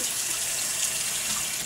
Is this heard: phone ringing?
no